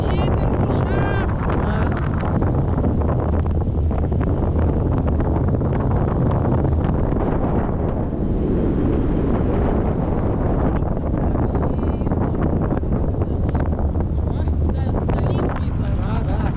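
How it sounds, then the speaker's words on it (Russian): Strong, steady wind roars across the microphone during a tandem paragliding flight in Kunda, Estonia, a dense rushing buffet with low rumble, while voices speak now and then underneath. "Ветер в ушах"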